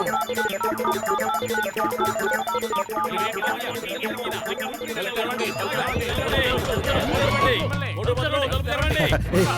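A cartoon phone ringtone plays a repeating melodic tune, then voices join in and talk loudly over it as the ringing continues.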